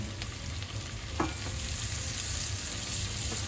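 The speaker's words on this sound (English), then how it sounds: "Next I'm adding the onion" Garlic and onion frying in a pan make a dense, even sizzle close by, with a brief clatter as ingredients go in, no speech.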